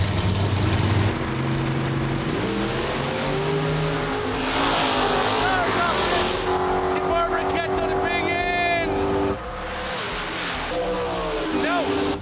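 Drag race cars launch down the track in a pairs race, engines roaring loudly and rising in pitch as they pull away, with tire noise and an announcer talking over the sustained din.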